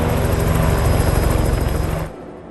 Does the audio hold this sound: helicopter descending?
yes